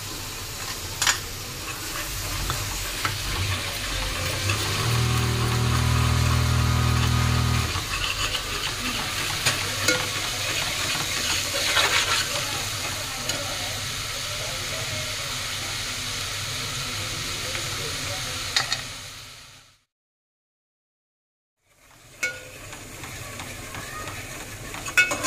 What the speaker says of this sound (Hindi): पहले अदरक लहसुन डालेंगे, 2-3 मिनट अदरक लहसुन को पास से भूनेंगे